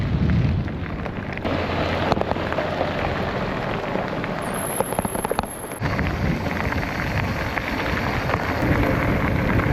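Heavy rain pours down steadily around a lone cyclist bike-packing through the Albanian countryside, a dense broadband hiss that stays loud and continuous throughout, with a brief high whine partway through.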